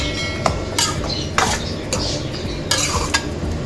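A spoon scrapes and stirs through thick turkey curry in a metal pot, with a soft steady sizzle underneath and a few sharper clinks against the sides.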